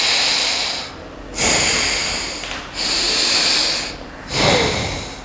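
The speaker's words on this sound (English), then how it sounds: "Inhale left. Exhale right. Inhale right. Exhale left." Slow, deep breaths through the nose during alternate nostril breathing practice, close and airy, alternating long inhales and exhales separated by brief pauses.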